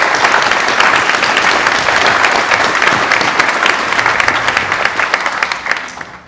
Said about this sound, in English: So quick round of applause again for all of our speakers over the last 3 days.